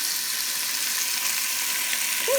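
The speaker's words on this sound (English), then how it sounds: "we wanna start searing our meat" Pork searing in olive oil gives a steady, broad sizzle that holds even and fairly loud throughout, with no talking over it.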